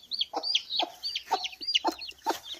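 A hen with not-quite-brown plumbing clucks in short repeated bursts, close and fairly soft, in a quiet farmyard setting with no talking.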